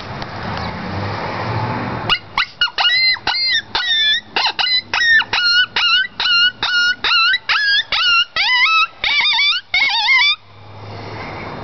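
A person imitates a dog's ki-yi yelp using the diaphragm: a rapid series of about twenty short, high, quivering yelps in steady rhythm, close and loud, ending in a wavering whine.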